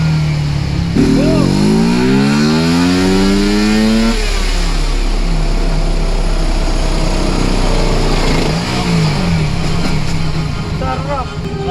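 A motorcycle engine on a dyno revs hard, climbing sharply in pitch, drops back, then surges again. The engine is loud and close, and voices can be heard over it.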